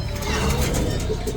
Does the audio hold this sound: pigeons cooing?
yes